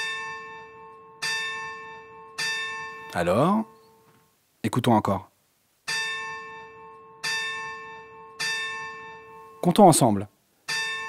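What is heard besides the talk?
church bell ringing three times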